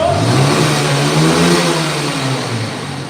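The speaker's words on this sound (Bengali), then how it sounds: "সব স্টার্ট দিয়ে দেখা যাচ্ছে ইঞ্জিন কোয়ালিটি" A motorcycle engine at a bike fair or showroom revs loudly and close by, its pitch rising and falling through a couple of throttle blips before settling toward idle.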